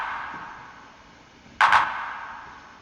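A single electronic clap sample with its own reverb, from a breakcore track: one sharp, bright hit with a short reverb tail, over a faint steady hiss.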